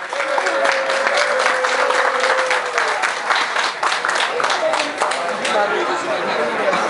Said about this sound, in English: Have a big round of applause for our host tonight.